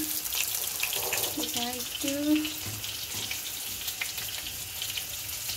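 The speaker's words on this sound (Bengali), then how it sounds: "চিকেন ফ্রাই হচ্ছে।" Chicken pakora frying in hot oil gives a steady bubbling sizzle with a few brief clinks, and a voice is faintly present.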